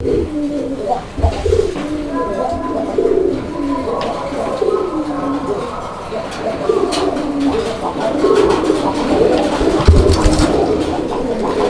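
Pigeons at a market bird stall coo repeatedly in a continuous close chorus, soft throaty calls overlapping and rising slightly toward the end.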